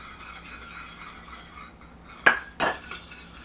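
A utensil knocks twice against a bowl while kkanpunggi sauce of soy sauce, pepper and water is stirred, two bright clinks standing out over a quiet kitchen background.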